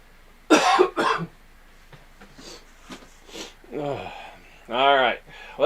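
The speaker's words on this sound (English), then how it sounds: "I wasn't coughing until I started talking." Two sharp, close coughs from a man burst out near the start, followed by quieter throat sounds and brief vocal noises.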